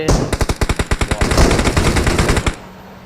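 Automatic gunfire in a video game rattles out as a loud, rapid, continuous burst of shots lasting about two and a half seconds before cutting off.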